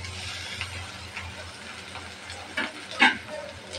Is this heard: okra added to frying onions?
yes